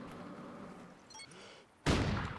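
A single sharp sniper rifle shot in a multiplayer video game on the Stonehaven map, a loud crack near the end after quieter ambient background sound.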